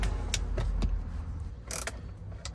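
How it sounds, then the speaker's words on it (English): A deep socket wrench works a trim panel fastener inside a Jeep Wrangler JK dash, producing a few close mechanical ratcheting clicks and creaks over a low background hum. "So I'm gonna use this deep socket."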